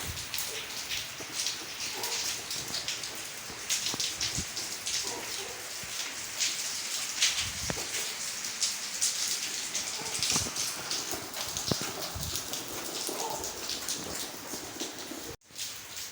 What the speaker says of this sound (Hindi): अभी हो रही है सुबह सुबह बारिश, और अभी हम बारिश का लुत्फ़ अंदोज़ हो रहे हैं।